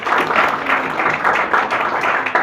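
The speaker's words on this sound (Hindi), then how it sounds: "पहले तो इनके लिए ताली मारिएगा बाबू पहले।" An audience claps for a group of students at a career-guidance gathering, a close burst of fairly loud applause that keeps going steadily with uneven rhythm.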